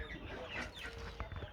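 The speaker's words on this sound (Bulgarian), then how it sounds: "Там долу са кокошките." Chickens cluck in a short run of soft, uneven calls, close by against steady background noise, with no voices.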